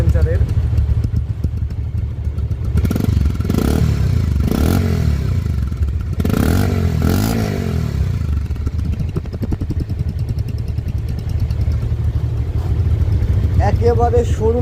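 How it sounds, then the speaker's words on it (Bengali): A Pulsar motorcycle idles with a low, steady exhaust drone from its silencer, heard close. Someone talks over the engine for much of the time. "সাউন্ডটা দেখেন সাইলেন্সারের।"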